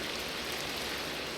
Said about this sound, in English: let me just go and sleep and get rid of this rain so we can hear what the hell we're talking about